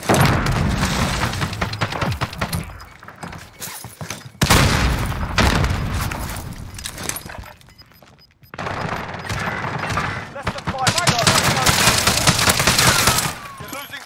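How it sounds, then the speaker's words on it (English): Video game battle royale match with dense gunfire bursts and booming explosions filling most of the stretch, a brief lull midway, then renewed heavy firing and blasts, with voices talking over the action. "Explosions to your right."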